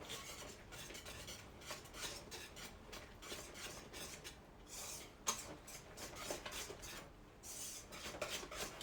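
A mixture is whisked gently by hand in a bowl, a faint, quick rasping swish of the whisk repeating steadily throughout, with light clinks against the bowl and no talking.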